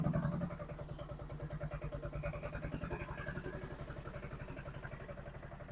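A tractor-drawn sowing machine planting sorghum in a farm field chugs and clatters in a fast, even rhythm close by, a steady mechanical knocking with no talk.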